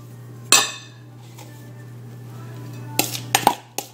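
A spoon stirs carrot cake batter with lemon zest in a bowl, sharp clinks and taps of utensil against the bowl in a few bursts over a low steady hum.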